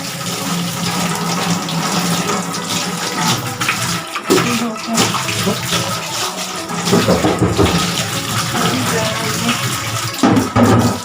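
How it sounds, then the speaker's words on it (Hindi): Water runs continuously from a tap while an oily tava griddle pan is washed, a loud steady gush with scrubbing and splashing changes throughout, close by and without talking. "तवे को भी वॉश कर लेती हूँ, ऑयल लगा हुआ है।"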